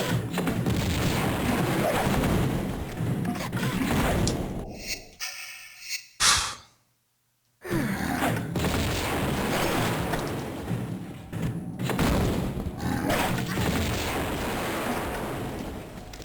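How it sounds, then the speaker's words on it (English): A grenade launcher fires during a Tomb Raider remastered level: dense, loud booms and blasts build up, break off into a brief near-silent gap, then resume as repeated explosions against rumbling game sound. "Take out the grenade launcher, I guess."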